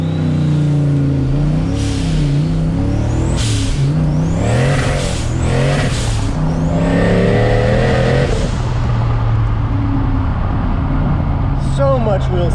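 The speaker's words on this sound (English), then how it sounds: "just unbelievable wheel spin with this thing" A turbocharged Foxbody car launches with heavy wheel spin, its engine revving hard and rising in pitch through repeated surges, loud and close as a voice talks over it.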